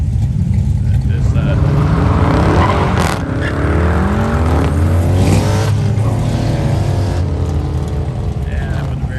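Turbocharged LS-powered drag car roaring off the line at a 2021 drag racing weekend, a loud sustained engine blast with rising harmonics and tire noise, heard over constant crowd and track ambience with commentary talk throughout.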